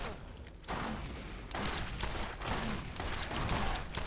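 Rapid bursts of gunfire from the video game Borderlands crackle in repeated volleys, loud and dense across the whole stretch, with no talk over them.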